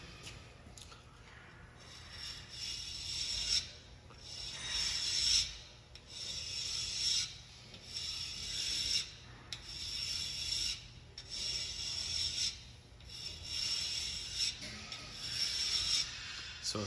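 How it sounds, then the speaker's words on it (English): A steel precision square is being hand-filed with repeated rasping strokes in a steady back-and-forth rhythm, each stroke a short scraping burst with brief pauses between, close and fairly quiet. "I'm filing this and doing this technique."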